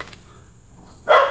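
A dog outdoors gives a single sharp bark that arrives suddenly after a near-silent moment, loud and close.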